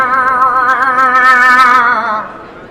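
A person imitates a moose cow call: one long, loud, wavering nasal moan that holds steady, then bends downward and fades at the end.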